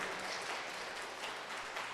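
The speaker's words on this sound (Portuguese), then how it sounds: "E vamos aplaudir o Senhor" A church congregation at a Sunday service claps together in a continuous, even wash of applause, moderately quiet and without pause.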